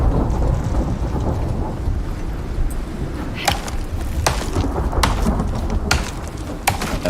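A thunderstorm in the survival game Icarus: steady heavy rain fills the scene with a low rumbling bed, punctuated by several sharp crackling strikes spread across the stretch.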